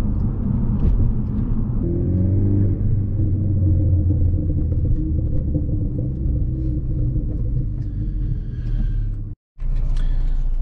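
BMW E30 with engine tuned for E85 and 91 fuel, a steady low rumble of the engine and road noise as the car pulls up at a California gas station, loud and continuous with a brief dropout near the end.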